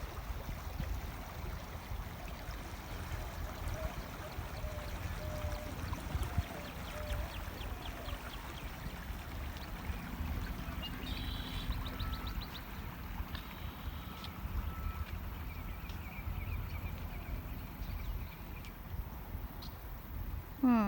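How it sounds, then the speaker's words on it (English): A waterfall gives a steady, broadband rush of falling water that fills the whole span at an even level, with faint bird chirps and scattered small sounds over it. "There's that waterfall again."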